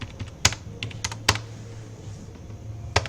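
Keystrokes on a computer keyboard while entering values into a C program, a few sharp clicks spaced out over a quiet room hum, no talking.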